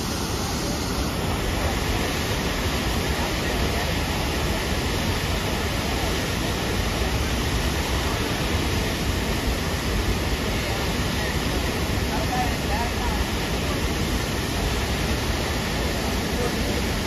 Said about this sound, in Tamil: அதில் பாருங்க எப்படி தண்ணி வந்து எவ்வளோ ஃபாஸ்ட்டாக ஃபோர்ஸாக வருது